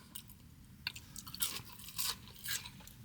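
Crunching bites into crispy tempura-battered fried food from Habit Burger, several close, bright crackling bursts spaced irregularly with chewing in between, no talk.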